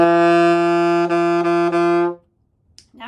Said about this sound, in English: So, a low D sounds like this.